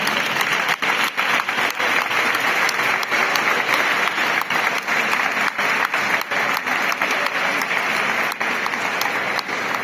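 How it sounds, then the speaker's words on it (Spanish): Sustained applause from a crowd at a Christmas carol contest in Palma del Río, Spain, steady clapping filling the whole stretch without pause, fairly loud and close. "Así que vamos a recibirlo con un fuerte aplauso."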